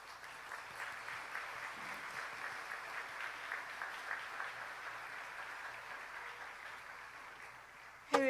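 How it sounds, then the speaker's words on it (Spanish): A church congregation applauds a visiting missionary, a steady, moderately distant wash of clapping sustained throughout, ending with a brief louder burst. "Cuando se levanten, le den gran bienvenida con gran aplausos."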